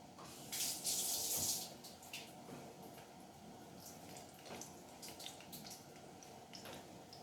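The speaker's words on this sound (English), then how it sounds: "I went over to the sink and I just got some tap water on my hand." Water from a kitchen sink tap runs in a steady, soft hiss with a louder splash near the start, fairly close and without talk.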